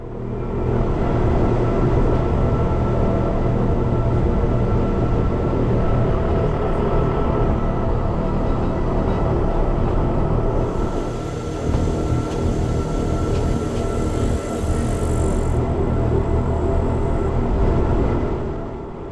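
A Swiss train running toward Grindelwald, a steady, loud rumble of wheels and carriage from inside, continuous with slight changes midway.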